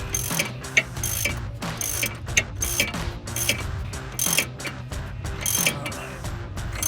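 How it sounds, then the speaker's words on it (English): A torque wrench ratchets in quick repeated bursts of clicks while tightening a track bar bolt on a Jeep Wrangler JL front suspension, a close, sharp mechanical clicking throughout with no talk. "I'll get the torque wrench on here"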